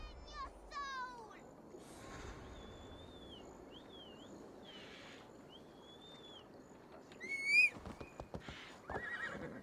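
Horse in Assassin's Creed Valhalla whinnying and neighing several times with clip-clopping hooves, faint and fairly quiet, with birdsong and a voice talking over it.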